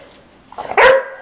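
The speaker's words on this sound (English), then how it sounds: "You can't bark." A single loud puppy bark, close by, preceded by some soft shuffling and a faint yip.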